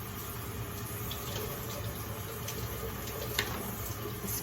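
Tap water runs steadily into a sink while cooked beets are rinsed and peeled, a constant close hiss and splash with one small knock near the end, no talking.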